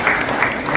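Audience applause at a shop opening, a brief, dense patter of clapping heard close and fairly loud with no break.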